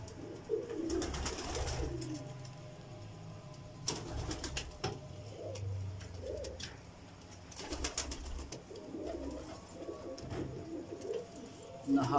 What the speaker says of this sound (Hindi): नहायत खूबसूरत परिंदे।